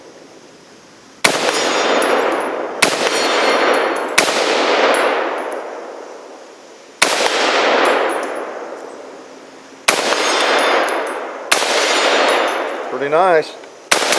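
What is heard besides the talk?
rifle firing through a magazine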